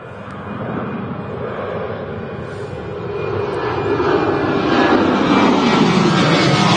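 An Aer Lingus Airbus A380 arriving at Manchester Airport from Orlando, its jet engines a broad, steady roar that builds gradually as the aircraft draws nearer, heard alone without voices.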